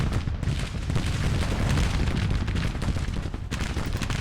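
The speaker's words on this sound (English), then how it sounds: "You do have to watch these guns firing into their flank now." Guns firing in Grand Tactician: The Civil War, a dense continuous rumble of distant volleys and booms rolling on without pause, broad and heavy rather than distinct single shots.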